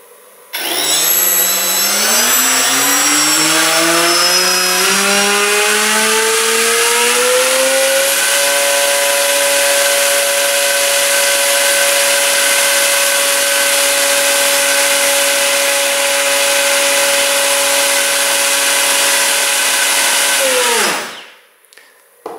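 An RC electric motor spinning a propeller on a 3S battery spools up over several seconds from a low whine to a loud, steady high-pitched buzz, holds close and constant, then cuts off abruptly near the end.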